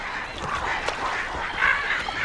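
Gulls call in a dense, continuous clamour of honking, squawking cries while being fed from a rowing boat on the Ganges, steady and close with no talking.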